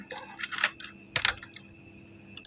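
Quick irregular keystrokes on a computer keyboard as a search is typed, with clustered clicks and short pauses, close and clear against a faint steady background hum, no talking.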